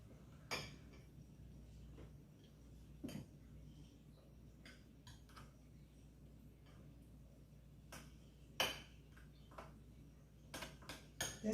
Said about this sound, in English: Then mix it, stir it together till it's well coated.